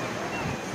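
Surf rolling onto the beach at Nagav, Alibaug, a steady broadband wash of sea waves with some wind noise across the moment, no distinct breaking crash standing out.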